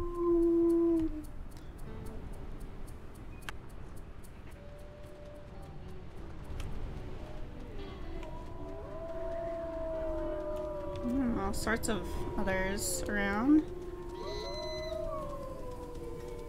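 A wolf howls in the video game WolfQuest; several rising, wavering howls overlap near the end, with answering howls among them, over steady ambient game sound while someone talks.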